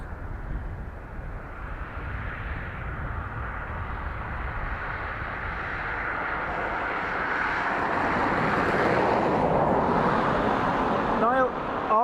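An airliner landing on runway 28 left at Dublin Airport, a broad roaring rush that builds steadily and grows louder toward the end, with wind noise and faint voices underneath.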